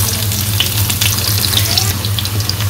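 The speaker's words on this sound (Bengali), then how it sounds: "পেঁয়াজ কাঁচামরিচ ভেজে নিই" Chopped onion and green chillies fry in oil for a village-style fish curry, a dense, loud, continuous sizzle close up with a low steady hum underneath and no talking.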